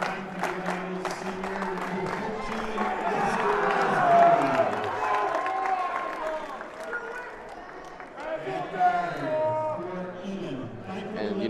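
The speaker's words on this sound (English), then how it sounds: "There's also quite a good Eastview crowd." A lively student crowd at a high school boys basketball game between Eagan and Eastview fills a gym with steady murmur, shouts and cheers, with commentators talking over the noise throughout.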